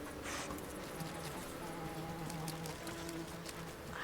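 Bees buzz faintly in the video game Adorable Adventures, a soft, continuous insect drone under a low game background with light pattering, no talk.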